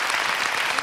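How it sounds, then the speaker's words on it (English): A church congregation claps together steadily in praise, a dense wash of applause with no voices on top. "I think we ought to give the Lord a praise clap for that."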